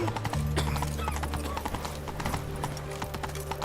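Roach, a horse in The Witcher 3, clip-clops along in a steady, close run of hoofbeats over a low, continuous background drone.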